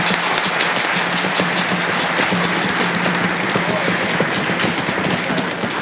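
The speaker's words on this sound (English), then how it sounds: "Can we have one last round of applause for our soloists" A school winter band concert audience of 5th and 6th graders' families applauds the young soloists, a loud, dense and sustained wash of clapping that holds steady throughout.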